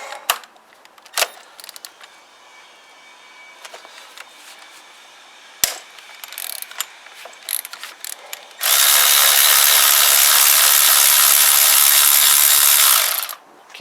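Ratchet clicks and metallic tool noises while undoing the top fork pinch bolt on a Kawasaki BN125 Eliminator front end, followed by a long, loud, steady burst of a power tool running for several seconds.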